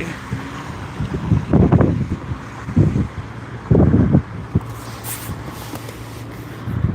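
Wind gusts buffet the microphone in heavy, rumbling bursts at a street outreach event, with steady background hiss between the blasts.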